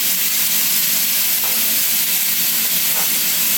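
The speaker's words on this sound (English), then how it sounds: "So we're just going to brown one layer of these and we're going to throw the oxtail in the pot." Oxtail pieces browning in a hot pot give off a steady, close, loud sizzle with a constant hiss and no talk.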